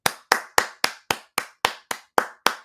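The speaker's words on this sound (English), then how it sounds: "Round of applause" Ten sharp, evenly spaced hand claps ring out close and dry, one about every quarter second, each with a quick decay and no talking.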